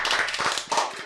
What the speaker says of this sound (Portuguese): uma salva de palmas para a Raquel de Assis também